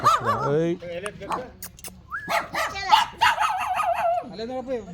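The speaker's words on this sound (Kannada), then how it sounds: "ನಾಯಿಗಳೆಲ್ಲ" Dogs barking and yipping near a house in a residential area, short sharp barks and whimpers mixed with people talking throughout.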